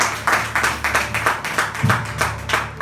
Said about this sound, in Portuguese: E as palmas engrandecem o nome do Senhor